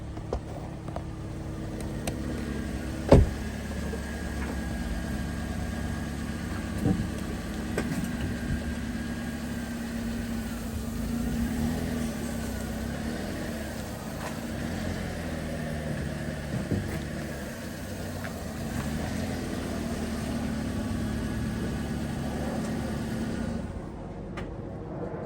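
A Toyota Yaris fresh from a clutch change runs with a steady, low engine hum throughout, with one sharp knock early on and a few faint clicks over the drone.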